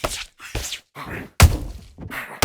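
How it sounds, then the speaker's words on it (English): Punches land in the boxing video game Undisputed, with several heavy thuds and thwacks in quick bursts separated by short gaps, one especially hard hit in the middle, and no talking. "Nice counter punch right up the middle."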